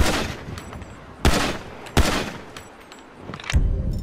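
Gunfire in GTA V aimed at an abandoned house: sharp, loud broadband shots with several strong cracks roughly half a second apart amid a continuous rattle of fire, no voices.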